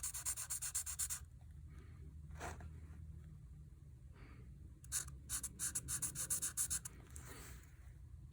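A Betem dual-tipped paint pen marker scratches across painted black journal paper in close, dry strokes, with a quick burst at the start and a longer run of rhythmic rubbing toward the end, no talking.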